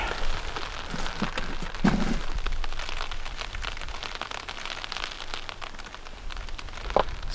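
Steady rain patters on a cover rigged over a camera outdoors during a hike, a dense continuous hiss with a few louder drops and taps standing out, close by and without voices.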